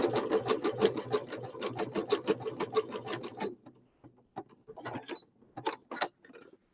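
A household sewing machine stitching an embroidered pattern on fabric, its rapid steady needle chatter running close and loud, then breaking into short stop-start bursts as the stitch changes.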